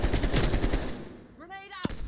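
Rapid automatic gunfire from enemy soldiers in Call of Duty: Black Ops Cold War, a dense burst of repeated shots for about a second, then a whistling tone and one sharp loud crack near the end.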